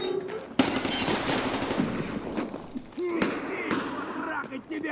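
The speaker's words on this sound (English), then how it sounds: "Was that an impact grenade?" Explosions from an impact grenade in Escape From Tarkov, a sharp loud blast followed by further bursts and rattling gunfire-like cracks in close succession, with someone talking over them.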